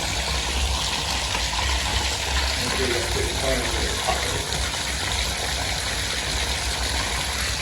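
Water runs steadily from a bathtub spout with the shower going, a constant close rushing gush with no breaks from start to end.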